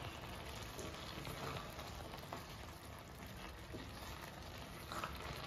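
Carrot halwa is sautéed and stirred in a pan, giving a faint, steady low sizzle with soft scraping that continues evenly throughout, with no voices.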